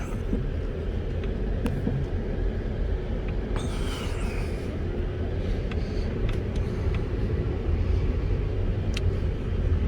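Inside a Mazda 6 sports sedan on a test drive, a steady low road and engine rumble runs throughout, fairly loud and continuous, with faint brief clicks and a little quiet talk mixed in.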